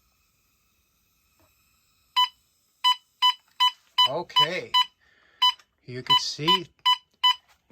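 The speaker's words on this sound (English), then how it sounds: "that's the alarm on there." Sharp, high electronic beeps from a gas detector alarm set off by a propane torch repeat in a regular pulse, about a dozen close and loud chirps, with someone speaking briefly between them.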